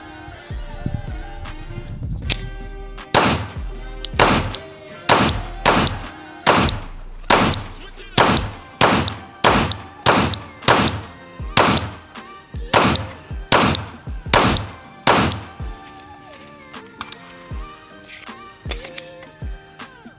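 A tactical Glock 45 pistol fires a long series of loud, close gunshots at steel plates outdoors, roughly a dozen sharp reports at a steady pace with echoing tails, slowing to scattered shots near the end.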